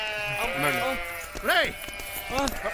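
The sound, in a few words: sheep bleating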